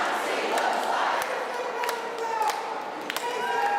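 Rally crowd at the Indiana Statehouse protesting a redistricting plan, a broad wash of shouting and cheering voices with scattered sharp taps and thumps.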